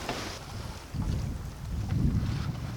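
Steady wind rushing past with water swishing along a sailboat hull moving at 3 to 4 knots on the Bay of Biscay at night, no voices, a continuous gusty whoosh.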